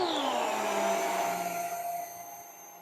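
A JIGOO-J300 dust mite vacuum cleaner whines steadily at close range, its motor pitch sliding down and settling before the level eases off slightly near the end.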